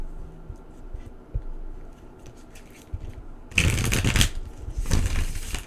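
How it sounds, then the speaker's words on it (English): Tarot cards being shuffled and pulled for a reading, a quiet papery riffle at first, then two louder bursts of dense shuffling near the end, close and without talk. "Let's pull some more cards"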